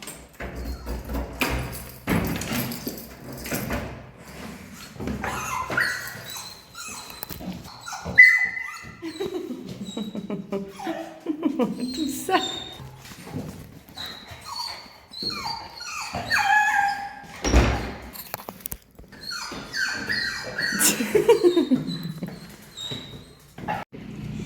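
A small dog whimpers, squeals and yips excitedly in a long, busy stretch of high-pitched cries with occasional thumps, close by, while someone speaks briefly.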